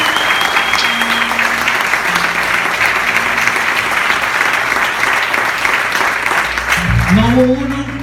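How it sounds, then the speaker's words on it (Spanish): Loud, sustained applause from a church congregation praising the Lord, a dense wash of clapping with voices and cheers mixed in, swelling toward the end. "Quiero que le demos un fuerte aplauso al Señor."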